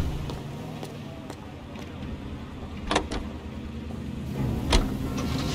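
A car driven in L.A. Noire gives a low, steady engine rumble with a few faint clicks and knocks, close and moderately loud, with no talking.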